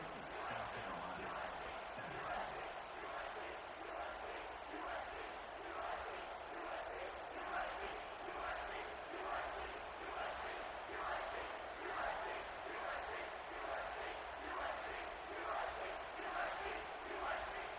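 Stadium crowd in a football video game cheers in a steady, distant roar that holds evenly throughout, with faint voices mixed in.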